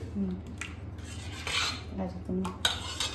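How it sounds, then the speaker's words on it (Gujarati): Rice flour batter being mixed in a bowl, a utensil clinking and scraping against the side in several short, close bursts with no talk. "એકવાર મિક્સ કરી લઈએ બેટરથી"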